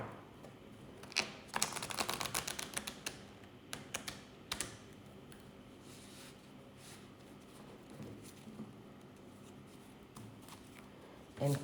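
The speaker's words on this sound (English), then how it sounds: "So let's start with shuffling the deck." A deck of tarot cards being riffled and shuffled in quick bursts near the start, followed by quieter handling sounds and a soft tap at the end.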